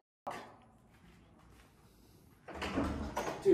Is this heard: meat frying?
no